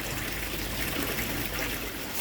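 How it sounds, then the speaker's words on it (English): Water from a pond's pyramid filter pours in a steady, continuous rush, close and fairly loud, a broad trickling splash with no break and no voices. "it's absolutely pouring out my filter now"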